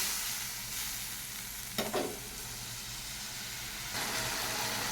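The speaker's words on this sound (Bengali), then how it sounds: "মশলাটাকে আর একটু কষিয়ে নিচ্ছি" Spice paste (masala) sautéing with a little water in a pan for an ilish fish-head potol and potato curry: a steady, close sizzling hiss with a brief scrape of stirring near the middle.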